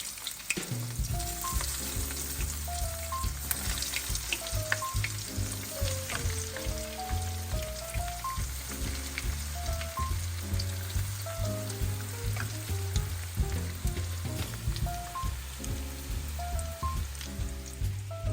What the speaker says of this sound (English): The oil's at about 350, 375, so be careful putting it in there.